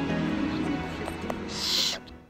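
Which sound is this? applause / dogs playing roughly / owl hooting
owl hooting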